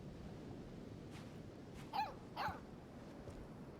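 In Life is Strange 2, a dog lets out two quick, high whimpering yelps about half a second apart over a steady, faint ambient hiss.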